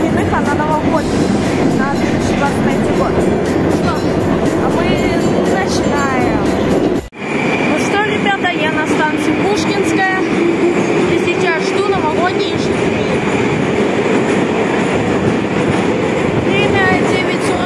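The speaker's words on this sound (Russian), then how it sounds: "на станцию въезжает всеми наш любимый новогодний ЕЖ-3!" A Moscow metro train with New Year decorations rumbles loudly into a station, wheels clattering and screeching as it slows, with people talking faintly in the background.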